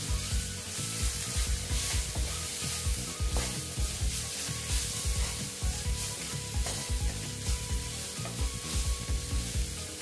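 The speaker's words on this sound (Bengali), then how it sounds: "আবার আমি এটাকে ভালো মতন নেড়ে চেড়ে নিচ্ছি" Close sizzling of poppy seed paste frying in a pan, with repeated scraping strokes of a spoon stirring it in an uneven rhythm.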